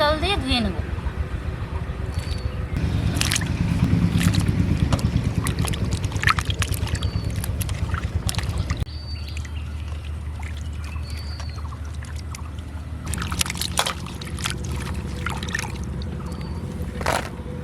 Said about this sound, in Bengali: এখন কয়েকবার পরিষ্কার জল দিয়ে ধুয়ে নেব।